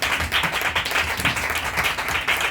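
A church congregation claps and cheers in dense, continuous applause, loud and close throughout, with no single voice standing out.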